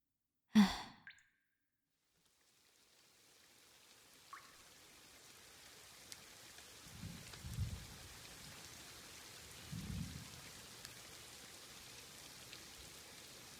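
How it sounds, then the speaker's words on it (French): Rain falls softly and steadily in a quiet indoor setting, a faint continuous patter that builds after a breathy sigh at the start, with a few low muffled thumps later on. "il pleut déjà?"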